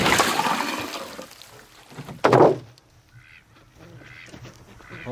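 Ducks quack and honk near a backyard pool covered with a sheet of ice, a splashy burst at first, then a sharp loud call and softer distant quacks.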